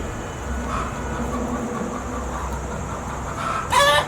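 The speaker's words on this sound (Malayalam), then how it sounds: "അവിടെ കോഴി മുട്ടയിട്ടിട്ട് കൊക്കണതാടാ കേൾക്കണത്." A hen clucks after laying an egg, a run of loud, close squawking cackles bursting out near the end over steady background noise.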